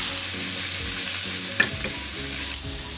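Grated carrot, ginger and curry leaves for quinoa upma sautéed in a pan, loud continuous sizzling with stirring scrapes and a spoon knock partway through, quieting slightly near the end; no talking.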